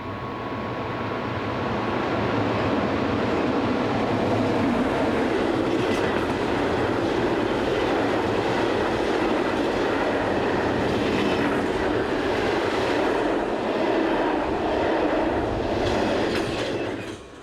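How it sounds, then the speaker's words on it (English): A southbound coal train pulls away from a standstill with a Class 151 banker locomotive attached at the rear, giving a loud, continuous rumble of engines and wagons rolling on the track, steady throughout with no voices. "Our final scene shows a southbound coal train restarting after the Class 151 banker has been attached to the rear"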